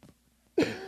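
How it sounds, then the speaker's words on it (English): A single loud, harsh cough bursts out after a quiet pause, close to the mic, trailing off briefly. "I'm going to cough for a second, excuse me."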